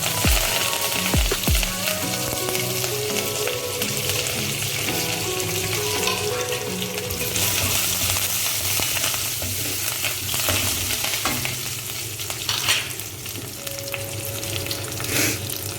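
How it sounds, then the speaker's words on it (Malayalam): Curry leaves, mustard seeds and dried chillies frying in hot coconut oil for an eggplant curry, a loud dense crackling sizzle that runs throughout with brief spits and pops, close and without speech. "കറിവേപ്പിലയിടാം"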